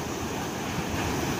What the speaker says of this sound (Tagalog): Ayan na, alon.